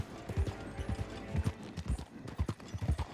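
Horse hooves clip-clopping in a video game, a quick uneven run of close, distinct thuds repeating through the short stretch with no talk.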